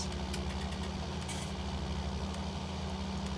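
Steady tractor engine idling in Farming Simulator 19, a low, even mechanical drone with strong low-frequency harmonics holding constant throughout, close and continuous with no talking.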